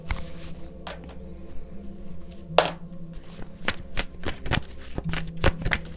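Tarot cards riffled and shuffled by hand for a pick-a-card reading, soft papery flutters broken by a few sharp slaps and taps, close and fairly quiet over a low background hum.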